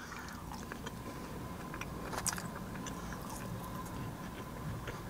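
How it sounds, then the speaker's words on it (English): Someone bites and chews seasoned crinkle-cut fries from Zaxby's, with faint, close crunching and chewing over a quiet steady background. "I'm gonna try a crinkle fry."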